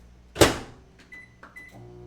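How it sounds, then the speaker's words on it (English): A kitchen microwave oven being set to reheat a cup of cold coffee: a solid thump of the door shutting, followed by two short, thin keypad beeps, close and fairly quiet. "I'm going to put that in the microwave"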